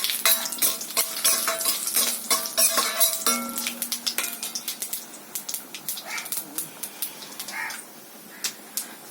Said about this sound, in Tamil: இப்போ கடுகு வெடிக்குது பார்த்தீங்களா